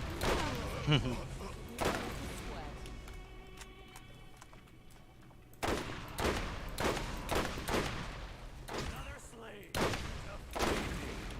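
Sniper rifle shots in the Borderlands video game, several loud separate blasts spread across the stretch with game ambience and music between them.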